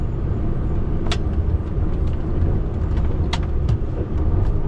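A city bus idling in stopped traffic near a dockside road, a steady low engine rumble filling the whole stretch with a couple of brief hissing bursts like air brakes releasing, heard from close by.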